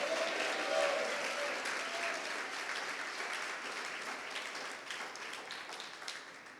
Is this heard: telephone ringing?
no